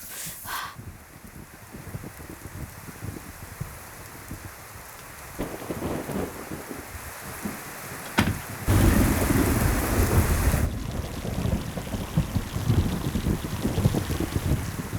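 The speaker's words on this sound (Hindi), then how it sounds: "कितनी ज्यादा बारिश हो रही है।" Heavy rain pours steadily onto surfaces while thunder rumbles and cracks, with one sharp clap followed by the downpour swelling louder and hissing continuously.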